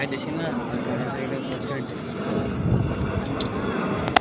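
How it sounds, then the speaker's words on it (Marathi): A distant airplane drones overhead as a broad, steady roar, heard on a hill-fort trek at Kalavantin Durg, with people talking nearby over it. "वरती विमानाचा आवाज येतो ना."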